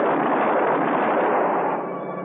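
A burst of gunfire in a radio drama helicopter scene: a sustained, muffled, band-limited roar of shots that holds steady and then fades slightly toward the end.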